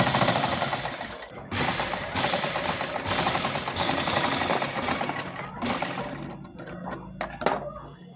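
A sewing machine runs in bursts while stitching the folded hem of a four-panel petticoat, starting and stopping in short runs with pauses between, close and fairly loud.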